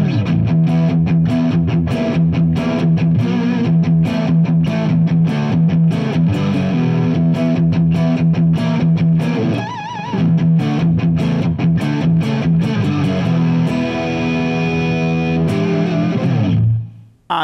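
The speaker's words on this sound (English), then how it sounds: "we have the next single coil riffing out once again" Distorted electric guitar with single-coil pickups, a Framus Wolf Hoffmann WH-1, chugs through heavy, rhythmic riffs with palm-muted chords and a brief sustained lead note, ending on a ringing chord that cuts off.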